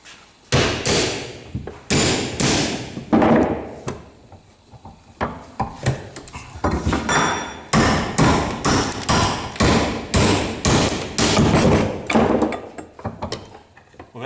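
A hammer bashes a bodged alternator part clamped in a vise, loud metallic blows struck in quick irregular runs with short pauses, close and dominant throughout.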